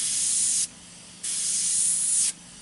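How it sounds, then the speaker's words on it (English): An airbrush sprays automotive paint in two even bursts of loud, steady hissing, each lasting about half a second to a second, separated by a short pause of quiet. "Using the automotive paints, there's one bonus to it, and that's it almost instantly dries as I'm spraying it"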